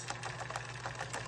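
Sewing machine running steadily while stitching a pants waistband, a continuous low motor hum with rapid faint needle ticking.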